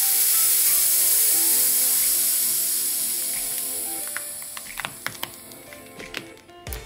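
Air hisses loudly out of the valve of a Trampa 2018 Pro electric skateboard's pneumatic wheel, then fades away over several seconds and gives way to a few close, faint clicks and taps.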